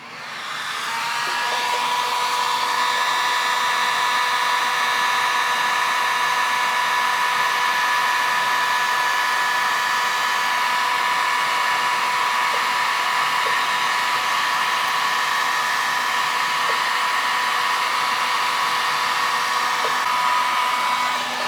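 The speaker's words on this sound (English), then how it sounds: "So the heat gun may actually be better for this application." A heat gun blows hot air in a loud, steady whooshing whine with a constant motor tone that holds unbroken throughout.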